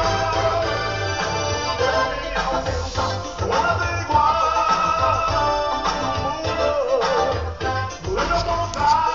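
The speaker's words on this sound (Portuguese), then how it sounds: "Esse aqui é o som do meu carro." Full-band music plays continuously and loudly through the car stereo of a 147, a Chinese-made head unit bought in 2010. No voices are heard.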